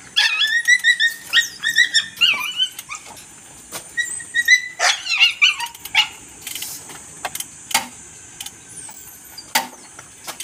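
An Aspin, a Filipino native dog, barks in short sharp bursts of high yips and whimpering barks, loud and close, with quieter pauses between runs.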